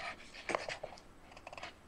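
A dog pants in quick, faint, breathy bursts close by, a short rhythmic string of huffs with no voices.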